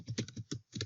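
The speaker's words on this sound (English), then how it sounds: "Now you go and type in your password." Someone types a password on a computer keyboard, producing a quick, close run of about a half-dozen clicky keystrokes with a short pause partway through.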